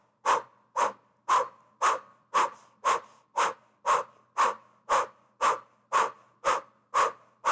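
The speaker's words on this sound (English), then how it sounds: "So it's a forceful, powerful breath through the O-shaped mouth" Forceful cannon breaths blown out through an O-shaped mouth, about fifteen sharp evenly spaced exhalations in a steady rhythm, close and alone, each a short breathy whoosh.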